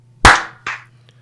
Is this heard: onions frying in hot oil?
no